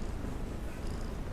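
A cat purring close up, a steady low rumbling drone that holds evenly throughout the short stretch, with no voices over it.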